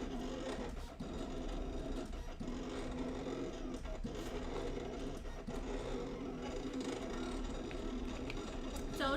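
A Silhouette Cameo 4 cutting machine cutting a monogram for pumpkin decorating, with a steady mechanical whir and rapid chattering motor movement throughout, close and continuous.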